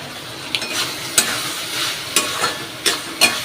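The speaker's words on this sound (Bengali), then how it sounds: "শুধু মাছটা ভাজলেই হয়ে যাবে, যে নুন হলুদ মাখিয়ে রেখে ঝটপট ভাজবো" Fish rubbed with salt and turmeric fries in a pan, a soft continuous sizzle broken by about six sharp spatula scrapes and taps at irregular intervals, close and without speech.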